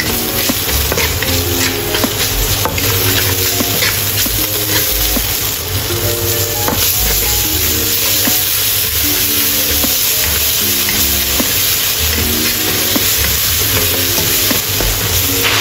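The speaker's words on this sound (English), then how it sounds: "stir fry the dried chili peppers at high temperature until fragrant" Dried chili peppers and garlic stir-fried at high heat in a pot, a steady loud sizzle with scraping stirs running throughout under a constant high background tone, no voices.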